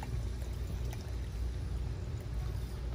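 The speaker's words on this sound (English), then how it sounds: "I want to pour this as quick as I can so that the cork is not tainting the wine." Pouring a 1992 Montrachet white wine from the bottle into a glass, a steady continuous liquid gurgle running close and unbroken for the whole moment with no talking.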